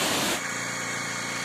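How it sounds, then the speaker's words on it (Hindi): A motorbike engine idles steadily on a hill road beside a river in a mountain area, with a constant low rumble starting after a brief louder burst of noise at the start. "यहाँ पे हमने बाइक भी स्टार्ट कर ली है।"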